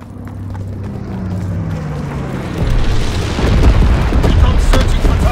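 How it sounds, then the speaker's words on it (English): A low-altitude bomber drops incendiary bombs in the Call of Duty WW2 game: a droning engine glides downward in pitch, then heavy booming explosions roll in and swell into a loud, sustained roar. "Low altitude bomber inbound."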